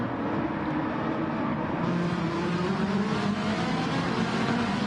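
Racing car engines drone steadily through turn 10 on medium tyres, a continuous close roar with slight rises in pitch as the pack accelerates out of the corner.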